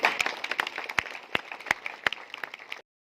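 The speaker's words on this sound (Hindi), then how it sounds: "एक बार जोरदार ताली" A short burst of audience applause at a school gathering honoring a student, with loud, irregular individual claps, fairly close, fading out abruptly before the end.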